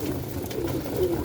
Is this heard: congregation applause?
no